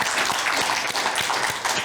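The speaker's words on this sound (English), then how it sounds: "if you wouldn't mind giving them a round of applause" A short burst of dense, steady clapping from an audience, fairly close and even throughout.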